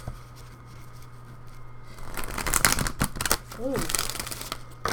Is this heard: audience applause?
no